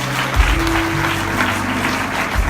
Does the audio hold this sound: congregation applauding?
yes